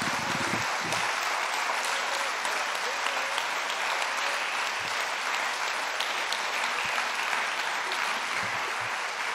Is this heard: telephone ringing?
no